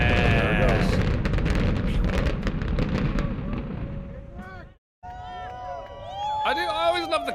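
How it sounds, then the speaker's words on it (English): A building collapsing in a demolition implosion, played back under people's voices: a long, loud rumbling roar of crashing debris fades away, breaks off briefly, then returns with lighter clattering and more talk. "Oh, it's a building falling down."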